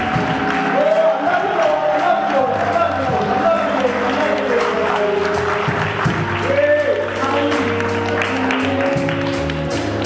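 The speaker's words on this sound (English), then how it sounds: "let's give the Lord a hand clap of praise" A church congregation claps hands in praise, loud, dense sustained applause with cheering and voices mixed in throughout.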